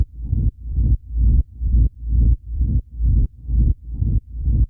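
Low sub bass pulses in a steady repeating rhythm, about ten deep swelling notes in quick succession, each rising and cutting off cleanly, with the stereo image not completely centered.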